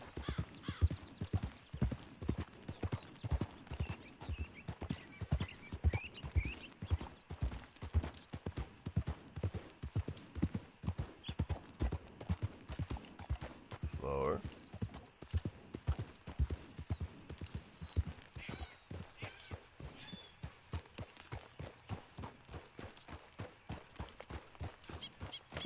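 In the video game Red Dead Redemption Online, steady clip-clop of horse hooves trots along at an even rhythm for the whole stretch, with a brief whinny partway through.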